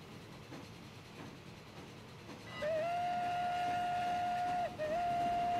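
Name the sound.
train running and horn toot in video game Transport Fever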